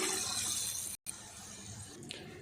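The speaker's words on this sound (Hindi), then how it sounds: "अब पानी डालेंगे, 3 कप हम पानी लेंगे" Three cups of water pour into a cooking pot for aloo matar pulao, a soft, steady splashing hiss broken by a brief cut, quiet and close with no talk.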